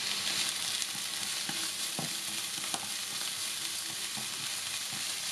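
Lemongrass with minced shallot and garlic stir-fried in oil in a pan, a steady broadband sizzle with a few scraping stirs of the utensil, close and continuous throughout, no voices.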